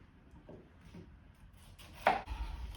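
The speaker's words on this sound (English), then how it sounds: "Just quarter your cabbage, remove the core, and then slice as thinly as you can be bothered to" A knife slices quartered, cored cabbage thinly on a board, giving a few soft, quiet cuts followed by a sharper chop and a knock near the end.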